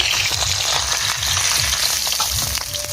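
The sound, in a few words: hilsa fish head frying in hot oil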